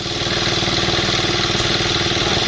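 A Yanmar 4 hp diesel engine drives a mortar and sand spraying pump with a 2-inch hose, a loud, steady close-up chugging idle with an even rapid pulse throughout and no talk.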